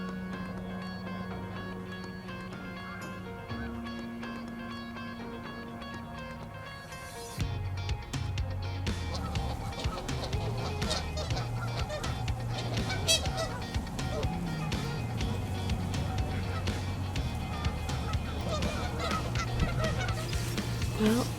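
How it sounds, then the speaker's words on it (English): Geese honk repeatedly over a winter wheat field, loud and fairly close, the calls growing busier and overlapping midway as two groups clash, with no speech. "Most action we had was 2 sets of geese come in and attack each other for nesting ground"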